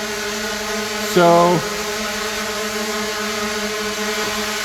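A drone flies back out of a tight nook, its steady motor buzz droning continuously throughout, with a brief louder whir partway through and a voice speaking over it.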